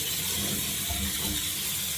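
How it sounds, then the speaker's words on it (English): Water from a kitchen sink faucet sprayer rushes steadily into a deep sink, a continuous broadband hiss throughout with no talking. "water sprayer or regular."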